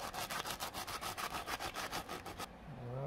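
A block being rubbed with hand sanitizer to strip silicone makes a fast, even series of rhythmic scrubbing strokes, close and loud, stopping abruptly near the end.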